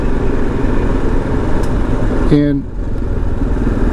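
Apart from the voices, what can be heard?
motorcycle riding on a trail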